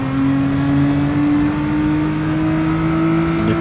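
A Gr.4 race car in Gran Turismo Sport holds a loud, steady engine whine that climbs gently in pitch as it accelerates, close and continuous throughout.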